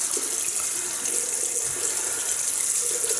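Tap water running steadily into a sink while a Merkur Futur razor is rinsed, a constant close hiss with faint splashing and no talk.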